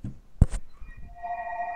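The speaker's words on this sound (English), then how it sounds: "His phone had to ring." A phone starts ringing with a sustained electronic tone after a brief thump and rustle, moderately loud and continuing steadily to the end.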